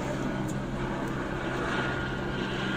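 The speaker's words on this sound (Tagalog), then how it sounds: "Helicopter." A helicopter flies overhead, its rotor and engine producing a steady, loud broadband drone that holds unbroken through the whole stretch.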